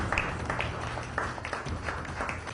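Applause from politicians and officials, the Prime Minister among them, welcoming Ram Nath Kovind as he files his presidential nomination papers; a steady, moderately loud wash of clapping with a few sharper claps.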